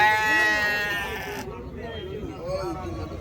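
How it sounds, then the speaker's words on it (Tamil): A sheep gives a loud, drawn-out bleat at the start at the Orappam goat market, then a noisy market background carries on with low, indistinct murmuring. "செம்மறி ஆடு, சூப்பரான ஆடு."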